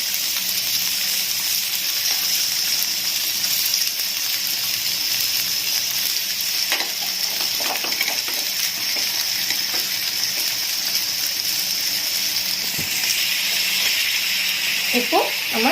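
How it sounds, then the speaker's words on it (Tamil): Chicken pieces fry in oil over a medium flame for peanut butter chicken, giving a continuous bright hissing sizzle that stays even throughout, close and fairly loud. "நல்லா இந்த மாதிரி ப்ரௌன் ஆகிற வரைக்கும் நம்ம மீடியம் ஃப்ளேம்லேயே வச்சு ஃப்ரை பண்ணணும்."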